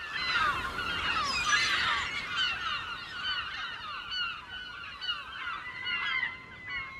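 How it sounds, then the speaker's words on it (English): A flock of seagulls on a rocky island shrieks and calls over and over, overlapping harsh cries that stay loud and close throughout, with no other sounds beneath them. "Seagulls finally got their revenge."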